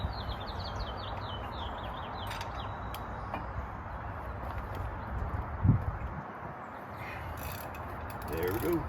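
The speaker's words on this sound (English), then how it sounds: "let's see if we can break this axle nut loose" A front axle nut on a Ram 2500 is broken loose during a wheel hub replacement, giving a single sharp crack midway through steady ratcheting and mechanical noise, with birds faintly audible outdoors.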